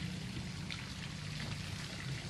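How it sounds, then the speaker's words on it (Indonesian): Water poured steadily onto coffee grounds in a brown non-bleached paper filter, outdoors at a southern beach, a continuous soft splashing trickle heard alone without talk. "Lalu saya kasih air dulu, bentar ya."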